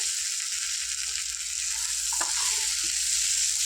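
Potatoes and chana dal frying in a pan, a steady bright sizzle throughout with a few scraping stirs and light clinks of a utensil.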